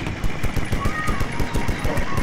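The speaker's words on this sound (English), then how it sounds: "I'm going to shoot up that heli." Machine gun fire aimed at a helicopter in BattleBit Remastered rattles in rapid, loud, close bursts of evenly spaced shots, with voices talking over it.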